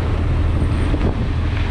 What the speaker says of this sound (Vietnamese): Quá trời mưa gió rồi.